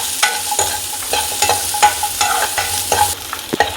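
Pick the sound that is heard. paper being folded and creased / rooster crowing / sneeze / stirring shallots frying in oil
stirring shallots frying in oil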